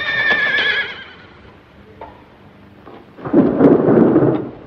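A horse lets out a loud whinny at the start, then thunder rumbles in a heavy, close burst near the end, with a quieter lull and faint hoof-like knocks between.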